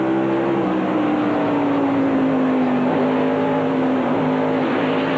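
NASCAR Craftsman Truck Series race trucks drone loudly around the 1997 I-70 Speedway oval, a sustained engine note sliding slightly lower as several trucks run together without pause.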